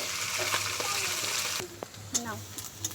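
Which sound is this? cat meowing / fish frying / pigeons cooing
fish frying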